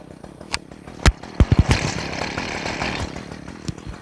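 A string trimmer runs steadily at a moderate distance, with a buzzing motor drone and several sharp thumps and clicks scattered over it.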